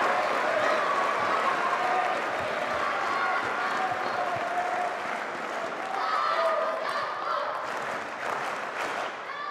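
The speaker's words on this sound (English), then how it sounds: "Crowd roar once more." Spectators at a table tennis match between Kirill Gerassimenko and Darko Jorgic in Ljubljana roar and applaud in a loud, sustained burst that holds throughout, then eases slightly toward the end.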